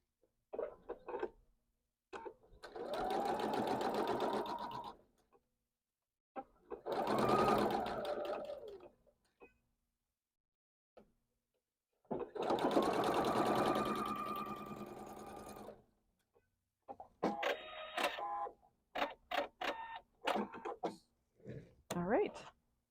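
A sewing machine stitches quilt block rows in three long steady runs, then a string of short bursts. It sounds close and clear, with pauses between runs.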